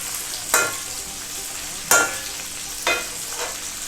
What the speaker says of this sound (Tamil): டீப் ஃப்ரை பண்ணிகிட்ருக்கோம்